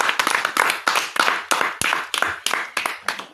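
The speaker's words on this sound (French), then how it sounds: "Applaudissez pour Nathan." Sparse, uneven handclaps from a small audience applauding Nathan at a spiritual teaching session, a few people clapping in loose rhythm rather than full applause.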